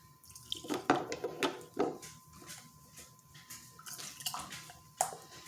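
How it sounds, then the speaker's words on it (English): Sauce is poured into jars of dry baked beans with bacon before pressure canning, a soft wet pour with a few gurgles and splashes, close and fairly quiet, with no talking. "I'm going to add my sauce."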